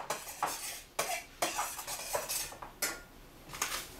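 Butter is stirred into cooked, drained Kraft Dinner macaroni, producing a series of close, irregular scraping and clinking strokes of a utensil against the pot, with no talking.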